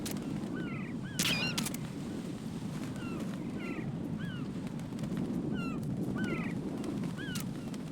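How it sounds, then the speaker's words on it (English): Bird calls in the Metal Gear Solid 2 game, repeated short chirping whistles over a steady windy, rumbling ambient background, with no speech. "Yeah, birds."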